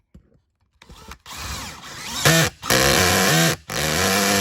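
A power driver on an RV rooftop tightens the mounting bolts of Renogy solar panels in several loud whirring bursts with short pauses between them, close and alone.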